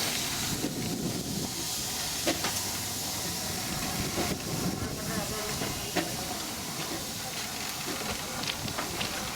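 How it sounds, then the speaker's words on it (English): A small Darjeeling Himalayan Railway steam locomotive hauls its train uphill toward Darjeeling, giving a steady hiss of steam with faint rail clatter and occasional sharp chuffs, close by and continuous. "little steam loco there on this railway"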